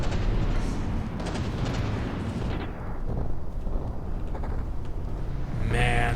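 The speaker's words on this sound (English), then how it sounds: "Man, more explosions going up." Heavy naval artillery and explosions rumble through a battleship video game battle, a dense continuous barrage of deep booms and crashing blasts with overlapping shots, loud and close throughout.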